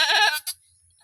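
A farm goat lets out one loud, close, wavering bleat that cuts off abruptly. A short faint call follows, then near silence.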